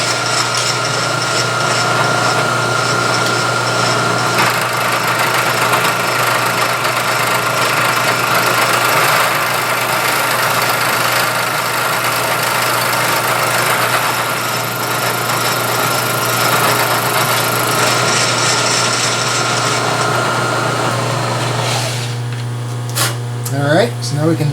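Milling machine taking a cleanup cut on stack blocks in a machine shop: a loud, steady motor and cutting drone with a constant hum runs almost the whole time, shifting and winding down near the end.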